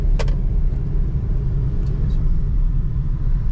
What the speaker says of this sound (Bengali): ফিফথ গিয়ারে চালাচ্ছি এই রাস্তায়